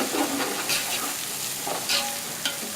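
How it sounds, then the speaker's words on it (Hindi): Garlic-ginger paste and onion frying in hot oil for a biryani, giving a steady close sizzle with scraping stirs and small crackles throughout, and no talk. "लहसुन अदरक के पेस्ट को प्याज के साथ ऑयल में फ्राई कर लेंगे"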